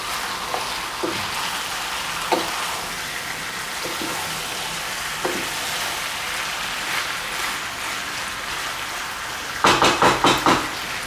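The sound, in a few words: chicken stir frying in pan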